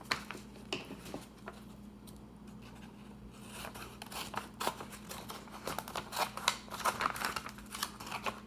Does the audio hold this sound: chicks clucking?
no